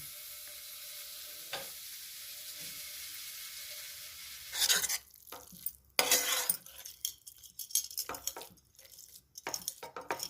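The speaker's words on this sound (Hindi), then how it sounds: "मावे को हमें मीडियम आंच पे भूनना है और लगातार चलाते रहना है।" Homemade mawa is stirred and roasted in a pan over medium heat, giving a soft sizzle under repeated scraping and clinking of a spoon against the metal, close and moderately loud.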